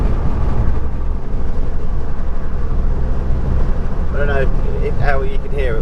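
Steady low engine and exhaust rumble and rushing wind from an open driver's window inside a moving Ford Fiesta MK8 ST with a Scorpion exhaust, loud and continuous, with a brief burst of voice near the end.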